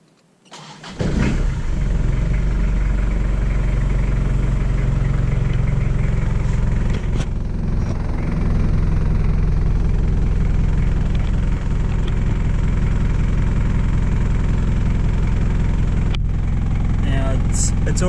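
A diesel car engine with glow plugs, checked during power steering work, cranks and catches about a second in, then settles into a loud, steady, rumbling idle for the rest of the clip.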